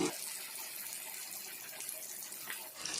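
Sardines fry in a pan with a soft, steady hiss and crackle of hot oil that stays fairly faint and even throughout the short stretch.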